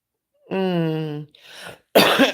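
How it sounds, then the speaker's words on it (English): A drawn-out voiced groan and a raspy breath lead into a sharp, harsh cough, close and loud. "I still ain't got rid of this cough."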